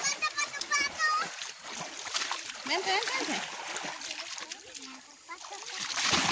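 Kids splash about in a river, with bursts of water splatter mixed with children's shouts and chatter throughout, loud and close.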